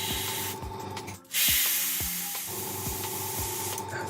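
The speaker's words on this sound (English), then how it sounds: "Spray through any excess." Bursts of excess paint spray from a hobby paint sprayer: a close, steady hiss that drops out briefly near the middle and then resumes, strong and continuous, with no talking.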